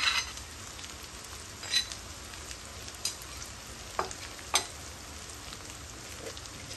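Chopped onion sizzles in hot oil with ginger and garlic paste added, a steady close crackling fry with a few sharper pops and occasional stirring scrapes.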